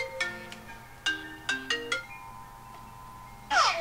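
A mobile phone ringtone plays a short series of bright, melodic electronic notes in quick bursts, followed by a louder jangling phrase near the end, fairly quiet and without any talking.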